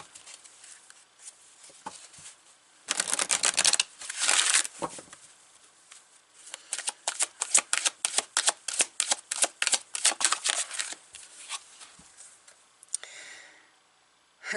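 Tarot cards being shuffled by hand, a close, crisp series of rapid riffling and slapping bursts that come in uneven waves, with no talking over them.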